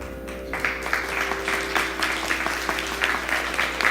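Audience at a fundraiser concert claps steadily throughout, a dense even applause under a faint sustained tone, with no voices standing out.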